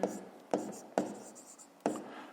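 Pen strokes on paper while a maths solution is written out, four short scratchy bursts spaced about half a second apart, soft and close.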